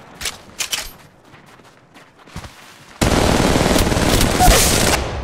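Gunfire in the Apex Legends Mobile video game: scattered single shots and short bursts, then a loud, sustained stream of rapid automatic fire lasting about two seconds, close and dominant.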